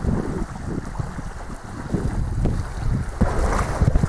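Strong wind buffets the microphone aboard a sailboat under way off the Florida coast, a loud continuous roar with gusts and water wash underneath, no talking.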